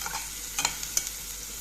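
Chopped onion and green pepper frying in oil are stirred in a pan, a quiet steady sizzle with a couple of soft spoon scrapes and clinks close by.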